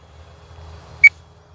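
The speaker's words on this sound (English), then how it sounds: "the timer tells me it's time to land" A single short, high electronic beep comes from the flight timer of an OMP M1 RC helicopter, sharp and clear over a low, steady background rumble.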